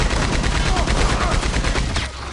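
Belt-fed machine gun from Red Dead Redemption 2 firing a loud, sustained burst of rapid shots that tails off near the end.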